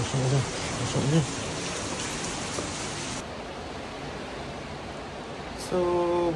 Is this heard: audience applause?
no